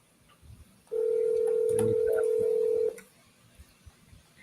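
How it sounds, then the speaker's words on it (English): One ringback tone sounds on a phone line while a call connects: a single steady, loud electronic tone about two seconds long, framed by quiet line noise before and after. "Answer this phone, Elias."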